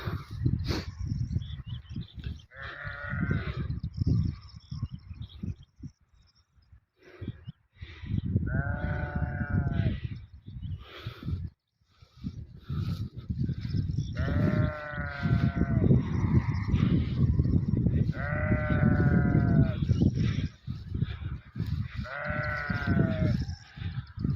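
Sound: farm animals calling

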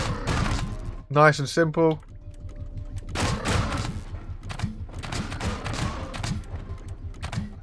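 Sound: tank turret guns firing in video game Scrap Mechanic

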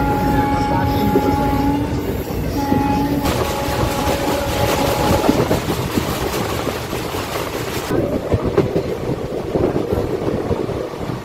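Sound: moving Gangasagar Express passenger train

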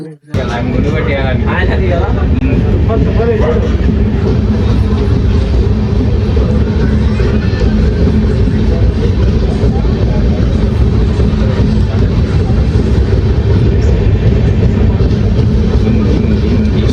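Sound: train starting and running

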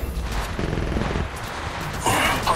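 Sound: gunfire in a video game shootout

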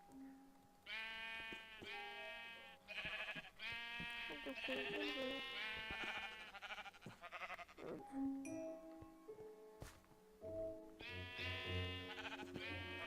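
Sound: sheep bleating in Minecraft video game

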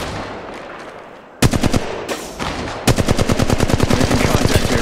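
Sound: gunfire in the video game Apex Legends Mobile

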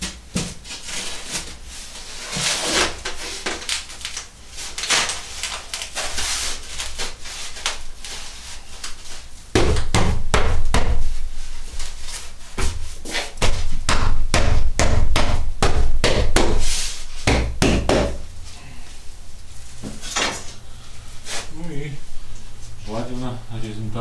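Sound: hammer knocking cement mortar off a balcony wall

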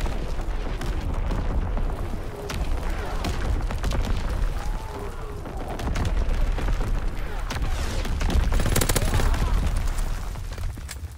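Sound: Azon bomb strike and gunfire in Call of Duty WWII video game

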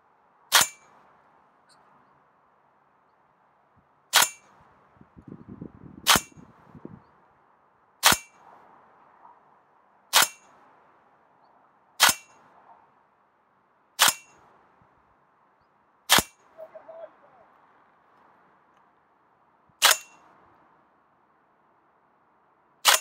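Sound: GBLS DAS GDR15 shots hitting torso target at 40 meters

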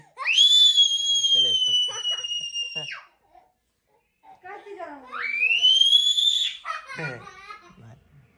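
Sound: whistle blown

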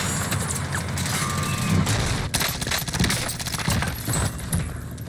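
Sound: gunfire in the video game Call of Duty Warzone

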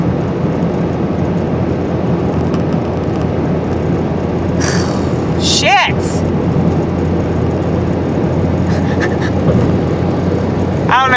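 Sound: airplane flying overhead

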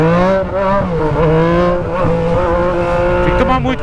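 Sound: Yamaha MT-09 motorcycle with straight-pipe exhaust accelerating

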